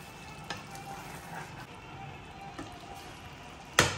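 A stuffed brinjal gravy with chopped coriander simmers in oil in a pot, giving a soft, steady sizzle broken by scattered pops and bubbles. A brief clatter sounds near the end.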